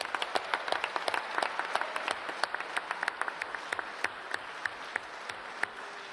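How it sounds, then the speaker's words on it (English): A crowd applauds a delegate at a Labour Party conference, a dense run of clapping with distinct sharp claps standing out, steady and fairly loud throughout with no talk. "you were getting a good round of applause"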